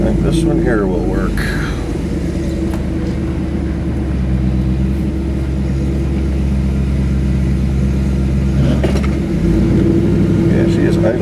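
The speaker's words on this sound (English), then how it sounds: "Yeah, she is idling fast." A GMC Jimmy engine idles fast with a steady mid-pitched drone and a faint whine on top, while a person talks briefly over it at the start and again near the end.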